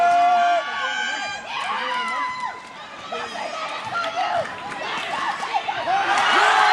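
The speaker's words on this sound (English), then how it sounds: "brings the crowd to its feet late in the game with a dunk" Crowd at a varsity high school basketball game between the Southeastern Hawks and Oliver Ames Tigers cheering a late dunk, a loud swell of whoops, shrieks and shouts that keeps building.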